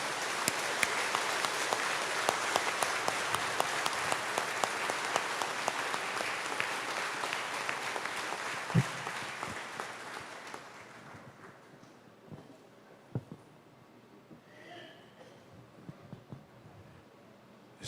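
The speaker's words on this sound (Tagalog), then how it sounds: "pasalubungan tayo pong masikan a palakpak" A church congregation applauds newly ordained priests at a presbyteral ordination, strong clapping that gradually thins out and fades to scattered claps and quiet room sound.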